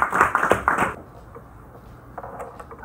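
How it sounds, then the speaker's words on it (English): A classroom audience claps for a student presenter at a school enrichment project showing, a dense burst of hand clapping that fills the first second and then stops abruptly, leaving quiet room tone. "Give her a round of applause."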